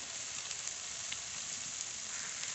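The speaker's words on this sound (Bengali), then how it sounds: "মশলা তো খুব ভালো করে কষিয়ে নিয়েছি" Spice masala frying in a pan, a quiet, even hiss of sizzling oil with faint crackles, steady and unbroken for a few seconds with no voices.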